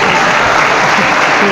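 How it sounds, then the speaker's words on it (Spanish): Congregation applause at a church Bible talk, a dense steady wash of clapping filling the whole moment with no clear gaps, loud and close. "Aplauso fuerte, fuerte, que se oiga, aplauso, hermano."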